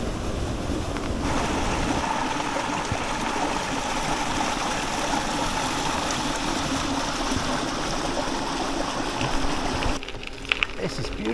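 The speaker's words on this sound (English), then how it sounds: "Right along the side of this cracking little stream. Making beautiful noises." A small stream runs beside a gravel road in Aragon, giving a steady broadband rush of flowing water with some wind noise, continuous and fairly close, and no speech over it.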